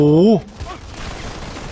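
Rapid gunfire crackles in a Modern Combat 5 shooter match, a dense, steady burst that follows a brief tonal game sound at the start.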